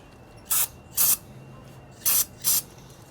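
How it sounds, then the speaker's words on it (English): Four short hissing bursts of aerosol starting fluid sprayed onto a Funduro motorcycle engine, in two pairs, close and fairly loud, with quiet background between them. "so you just spray it down with some starter"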